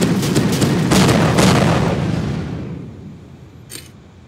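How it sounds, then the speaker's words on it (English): An M202 Flash rocket launcher fires in Ravenfield with a heavy, booming blast whose roar fades slowly over a few seconds, then a small click near the end; no voices. "our last weapon at number 10 is the M202 Flash"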